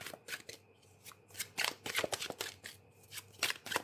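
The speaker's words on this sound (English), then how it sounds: "Let's pull a couple more cards" Tarot cards are shuffled and pulled from a deck in a series of close, crisp riffling bursts with brief pauses between them, with no voice present.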